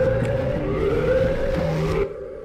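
A droning siren from the Roblox Backrooms video game wails steadily and loudly, then cuts off abruptly near the end, with no talk over it.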